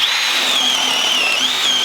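Power drill boring a hole through a 6-inch post while installing cable railing, a loud, steady high-pitched whine that wavers slightly in pitch, close and continuous.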